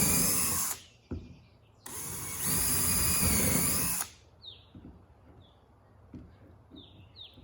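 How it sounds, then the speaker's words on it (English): A power drill pre-drills holes into an old workbench in two loud, steady bursts of whirring, each lasting a second or two, followed by quieter clicks and light handling noises. "pre-drill the holes."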